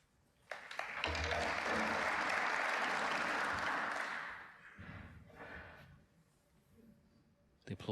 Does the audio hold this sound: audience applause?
yes